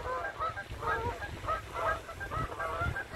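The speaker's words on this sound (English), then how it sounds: "We've got some Canadian geese here" Canada geese honk repeatedly in a loose, overlapping chorus, fairly close, in a park with waterfowl, with no talking.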